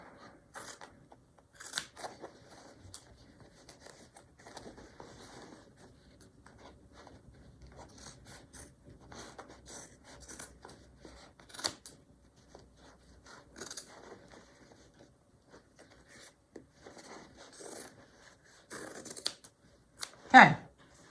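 Intermittent snips and crisp cutting sounds from scissors working through heavy denim from old jeans, with soft handling rustles and occasional quiet talk between cuts.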